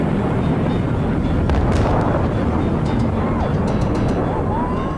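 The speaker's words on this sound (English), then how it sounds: "the desert echoed to the sound of a sonic boom" A sonic boom from the Thrust SSC jet car breaking the sound barrier in the desert, heard as a sustained loud, rumbling roar with a sharp crack partway through.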